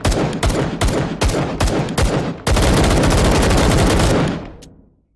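Gunfire in the VR shooter H3VR: a string of loud, close single shots at an uneven rhythm, then a dense sustained burst of rapid automatic fire that cuts off and trails away into a fading echo.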